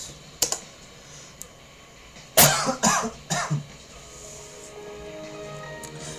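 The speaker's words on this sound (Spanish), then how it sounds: "siempre que me da por hacer vídeos me da tos" Several dry coughs burst out close by in a quick cluster, preceded and followed by light keyboard typing and clicks in a quiet room.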